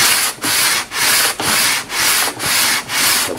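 Coarse 40-grit sandpaper on an aluminum ruler rubs across wood during Spanish guitar construction, making a loud, close, steady rasp in about seven even back-and-forth strokes with no talk.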